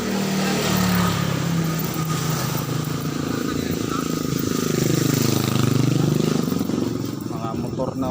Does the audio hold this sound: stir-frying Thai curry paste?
no